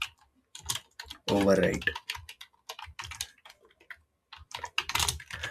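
Quick bursts of computer keyboard typing as a snappyHexMesh command is entered, clattering in short runs between pauses while someone speaks briefly over it.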